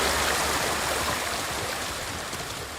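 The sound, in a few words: flowing water in the video game Ghost of Tsushima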